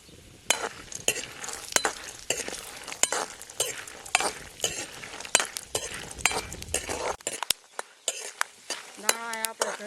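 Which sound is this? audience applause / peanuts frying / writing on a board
peanuts frying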